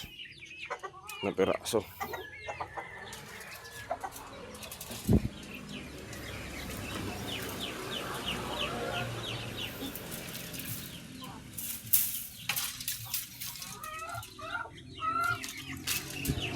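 Jersey Giant chickens clucking and calling in a coop, repeated bursts near and far over steady background noise, with a person speaking briefly.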